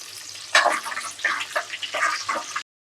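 Chana dal and halved dried red chillies frying in a pan for an ivy gourd curry: a few seconds of close, uneven sizzling and crackling in short surges.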